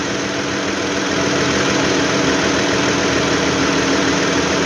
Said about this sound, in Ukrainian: Ось наш двигун.